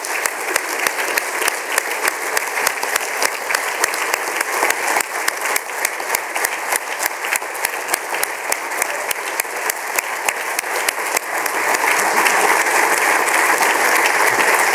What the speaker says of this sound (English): please join me again in giving him a round of applause.